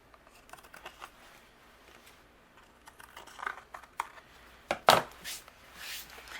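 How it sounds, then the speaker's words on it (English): Scissors trimming overhanging paper from a watercolor card panel: a series of crisp, close snips and paper rustles, growing louder and more frequent toward the end. "I'm going to use my scissors, and we're just going to trim that away"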